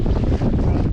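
Gale-force wind roars steadily across the microphone on a sailing boat, a loud, continuous rushing buffet with low rumbling gusts and no voices.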